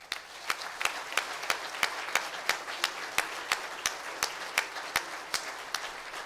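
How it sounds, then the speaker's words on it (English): Audience applause for firefighters at a meritorious awards ceremony: sparse, distinct claps at a steady slow rhythm, several individual hands standing out over a thin bed of quieter clapping. "So another applause for them."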